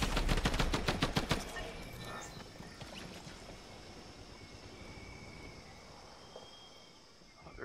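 Rapid bursts of automatic gunfire from players shooting each other in Fortnite, loud and dense for the first second and a half, then sporadic distant shots fading under ambient game noise.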